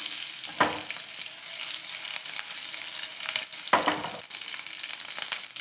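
Curry leaves crackle and sizzle in hot oil with fenugreek seeds and dried red chillies, a constant close frying hiss broken by two sharp bursts as the leaves spatter.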